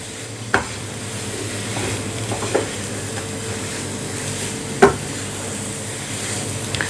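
Modak filling with chopped raisins is stirred in a pan, a low continuous scraping and faint sizzle punctuated by three distinct knocks of the spoon against the pan's rim.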